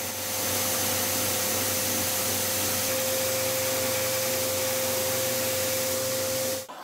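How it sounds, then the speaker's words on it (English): Homemade 2x72 belt grinder grinding the bevel of a draw knife made from an old hardened diamond saw blade, a steady loud whirring hum with a constant tone, continuous for several seconds before stopping abruptly at the end. "This is my homemade 2x72 grinder"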